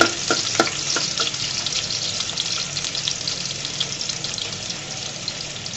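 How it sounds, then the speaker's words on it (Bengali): Onions frying in hot oil in a pan, a bright continuous sizzle with a few sharp spits and stirring clicks near the start, close and steady, slowly easing off. "দিয়ে পেঁয়াজগুলোকে সুন্দর করে ভেজে নেব। লাল লাল করে ভেজে নেব বন্ধুরা।"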